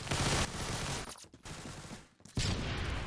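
Rapid automatic gunfire from a new weapon in the Phantom Forces video game, 9x18 ammo with a long subgrip, loud dense bursts with brief pauses between strings of shots.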